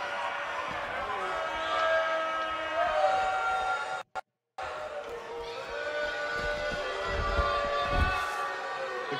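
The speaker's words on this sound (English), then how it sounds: "The crowd, not pleased whatsoever." A wrestling arena crowd jeers in displeasure, a broad roar with shouting voices throughout and a brief cut to silence partway through.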